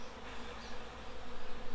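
Honey bees buzz steadily on a hive frame during a beehive inspection, a continuous close insect drone that swells slightly louder toward the end, with no talking.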